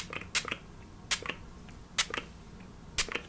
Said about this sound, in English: So I'm just going to spray a little bit of this